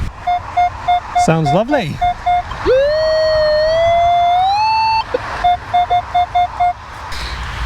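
A metal detector in a field near a road gives a steady, repeating beeping tone over a ring pull, with a rising warbling signal in the middle, alongside talk.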